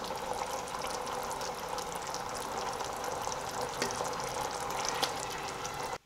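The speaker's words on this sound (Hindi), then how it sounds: "देखिए अब मैं इसमें मछली शामिल करूँगी" Fish going into a simmering masala curry gravy in a pan, a soft continuous sizzling, bubbling wash at low level with a brief splash-like bump near the end, no talk.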